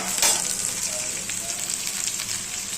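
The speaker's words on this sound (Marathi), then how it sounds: "5 मिनटं जातं त्याला फ्राय व्हायला" Leftover bhakri pieces fry with onion in hot oil, giving a steady, close sizzle throughout.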